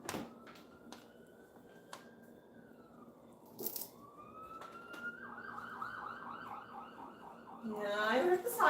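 Emergency vehicle siren wailing in rising and falling sweeps, faint and distant at first and then growing louder and closer, ending in a burst of crunchy noise.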